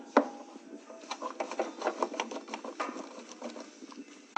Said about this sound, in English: slowly sliding the thick washer up the bolt